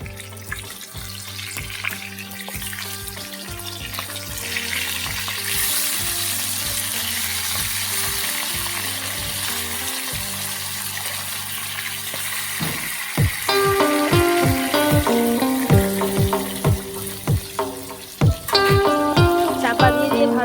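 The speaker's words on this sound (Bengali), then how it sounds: "এখানে আবার মাছ ভাজা হচ্ছে" Pangas fish fries in oil in a wok in a home kitchen, giving a continuous sizzle under a steady hum that gives way to background music partway through, with no speech.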